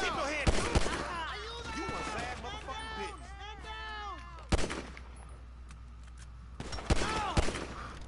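Gunfire in Grand Theft Auto V: a few sharp bursts of shots in quick clusters, loud and close, with people talking throughout.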